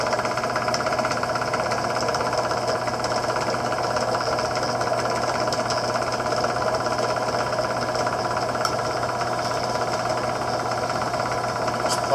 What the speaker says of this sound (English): Kind of more melting your way through than you are drilling your way through.